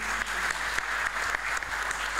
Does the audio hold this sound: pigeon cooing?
no